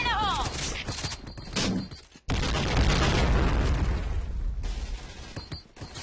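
Grenade explosions in a video game crash out loud and close, one abrupt blast cutting in after a brief hush and rolling into a sustained roar, with a voice talking over the din.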